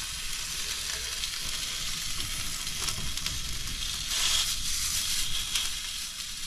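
Sausages and black pudding sizzle steadily in a hot pan on a camper van stove, a continuous close, bright frying hiss that swells slightly midway, with no talking.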